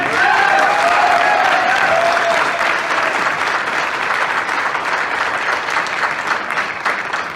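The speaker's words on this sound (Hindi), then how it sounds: "एक बार जोरदार तालियां चाहिए।" Loud, sustained applause fills a seminar hall in Greater Noida, with a brief whoop or cheer rising over the clapping early on before the crowd's hands gradually ease off.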